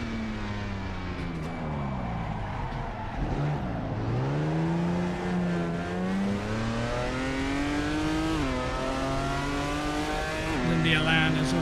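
Vintage race cars, a 2-litre Porsche and a 1.6 Lotus Elan, circle the Norisring in Assetto Corsa, their engines droning steadily with rising and falling revs and shifts throughout, close and loud, with a voice talking over them.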